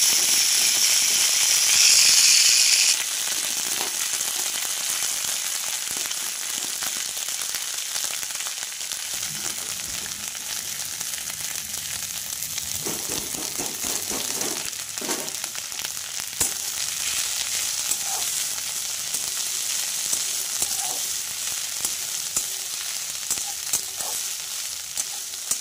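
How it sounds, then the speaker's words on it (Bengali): Drumstick (moringa) leaves sizzling and frying in a pan, a steady hiss that is loudest at first, then settles into a constant crackle with occasional soft stirring clatter, no voices. "এবারে আমি ওই যে শাকগুলো ধুয়ে রেখেছিলাম, এই শাকগুলো এবার দিয়ে দেবো।"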